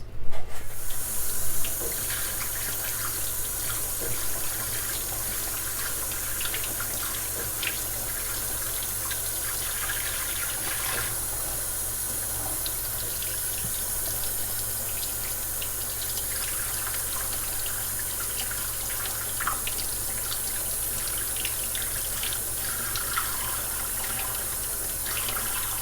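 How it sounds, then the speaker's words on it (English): Lukewarm tap water runs steadily from a faucet, rinsing the leaves of an African Mask plant infested with spider mites; a continuous close splashing hiss holds for the whole stretch with small fluctuations and no talk. "rinse off the leaves."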